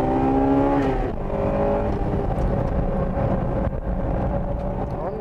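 Integra Type R race car on a track, engine revving high then easing off for a corner before building again, loud and close, with a faint voice underneath.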